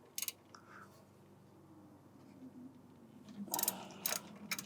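A ratchet on a 3-inch extension loosens a rear brake bolt on a 2014-2016 Kia Forte. A few sharp clicking bursts come at the start and again near the end, with quieter mechanical shuffling between them.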